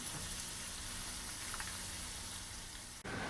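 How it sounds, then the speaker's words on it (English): Zucchini fry in hot oil with a steady, faint sizzling hiss that carries on without a break, with no voices. "While the zucchini are frying"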